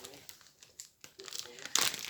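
Plastic wrapping and a zip pouch crinkle and rustle up close as a taped package is unwrapped, quiet scattered crackles building to a louder burst of crumpling near the end.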